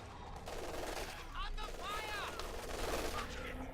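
MG42 machine gun fire in a World War II strategy game, rattling bursts of rapid shots repeating over a noisy battle backdrop while a commentator talks throughout.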